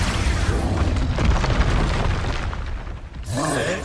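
In the game Hogwarts Legacy, an Expulso spell goes off as a loud, deep, rumbling blast with crackling debris that swells and then fades, while game voices talk briefly near the end.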